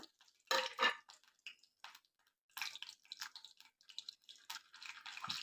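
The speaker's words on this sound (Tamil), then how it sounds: "கடுகு பொரியட்டும்" Mustard seeds spluttering in a small pan of hot oil for tempering: scattered sharp pops and crackles in irregular bursts, close and fairly quiet, with no talking.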